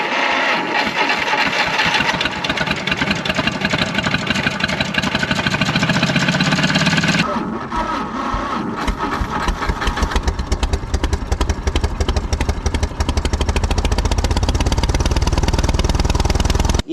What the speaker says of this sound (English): Motor runs a little rough